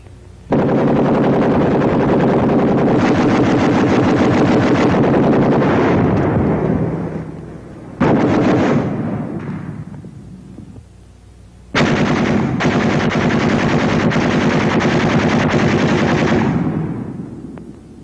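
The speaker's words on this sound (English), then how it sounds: "when it's pouring out of a machine gun, light or heavy, it can make a man look like a sieve in a matter of seconds" A .30 caliber machine gun fires long, loud sustained bursts of rapid rounds, one burst of several seconds, a short burst, then another long burst, with echoing tails between them.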